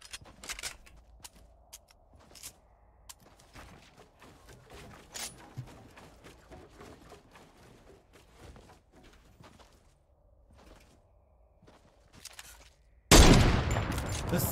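Gunfire in a Fortnite tournament match: scattered shots and short bursts through most of the stretch, then a loud dense burst of fire near the end.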